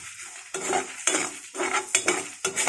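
A metal spoon scrapes and stirs toor dal and rice dry-roasting in a pan, five or six close, sharp scraping strokes in an uneven rhythm with soft crackling between them.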